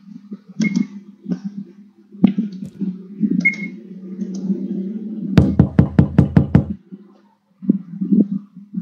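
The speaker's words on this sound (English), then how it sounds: "who's gonna be knocking at this hour?" Quick series of about seven sharp knocks on a door in the horror video game HANA, loud and close, rapping in a fast even rhythm; a person talks before and after.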